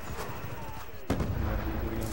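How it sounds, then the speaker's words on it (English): A frag grenade explodes in the shooter game Black Ops 2, a sharp booming blast midway through a short stretch of background game noise and faint effects. "Throwing frag!"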